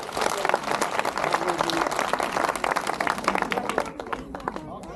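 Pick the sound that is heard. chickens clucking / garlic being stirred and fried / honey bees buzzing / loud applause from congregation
loud applause from congregation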